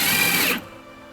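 A drill with a 13/32 stepped bit bores holes in a Toyota part, giving a brief high whine that cuts off abruptly, leaving a faint mechanical hum.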